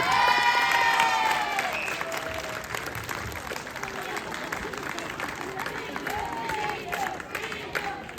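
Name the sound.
audience applauding contestants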